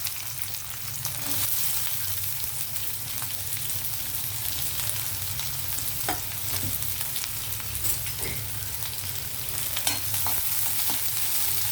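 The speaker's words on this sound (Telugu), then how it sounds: "ఓకే, ఆయిల్ హీట్ అయింది, ఆనియన్ వేస్తాం." Onions frying in hot oil give a dense, continuous crackling sizzle close by, with occasional faint stirring knocks and no talking.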